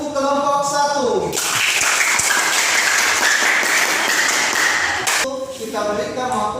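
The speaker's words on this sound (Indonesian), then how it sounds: "Berikan aplaus untuk kelompok 1." Applause from a classroom group for the first presenting team, a dense burst of clapping lasting several seconds, with a voice speaking just before and after.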